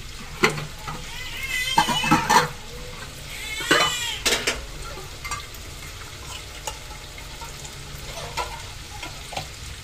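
Cream for a Filipino-style carbonara sizzles and bubbles in a hot pan while a utensil stirs and scrapes, with intermittent clinks against the pan over a soft, steady frying hiss.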